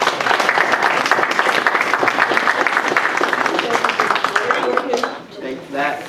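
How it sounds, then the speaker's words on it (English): Audience at a fraud awareness and prevention presentation breaks into loud, dense clapping that runs strong for about five seconds, then thins and fades out near the end. "Can we give a round of applause?"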